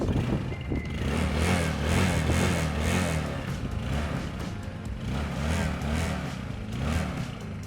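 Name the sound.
small quad bike engine starting and running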